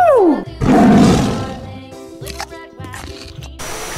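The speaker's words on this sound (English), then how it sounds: "Tiger." A loud, close tiger roar, a deep growling burst that swells and trails off, followed by softer rumbling and scattered short sounds.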